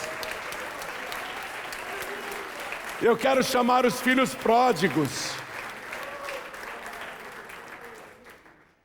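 Church congregation applauding in a burst of clapping that swells and fades over several seconds, while someone speaks and calls out over the crowd.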